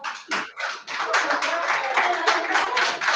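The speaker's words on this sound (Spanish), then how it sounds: "Aplausos de pie" Standing ovation at a regional cooking seminar, bursts of crowd clapping that swell into a continuous, fairly loud wash of applause, with voices mixed in.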